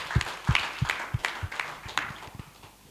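A church congregation claps along in a steady rhythm, about ten evenly spaced sharp claps over three seconds, moderately close and fading slightly toward the end.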